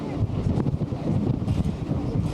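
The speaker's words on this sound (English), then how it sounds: "see the ventilator that the wind's still blowing, although it's not blowing near as hard as it was out in the harbor." Wind gusting over a boat moored in a Dutch harbor, a steady close roar buffeting the microphone with low rumble throughout, the blustery breeze softer than out on open water.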